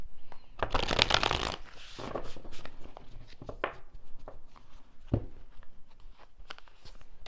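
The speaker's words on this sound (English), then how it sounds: "I'm going to pull a few cards now on what's happening in your earth life" Tarot cards being shuffled and pulled by hand, a dense riffling burst followed by lighter slides, snaps and card flicks close up, with no talking.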